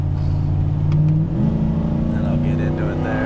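A truck fitted with a K&N open intake accelerates on a freeway under medium throttle, its engine droning loudly and then shifting to a new pitch. Someone talks over the steady engine noise.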